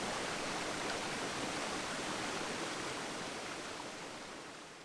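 Valley water flows through the Taebaek gorge as a steady, even rush. The dense, hissing sound holds constant, then eases slightly toward the end.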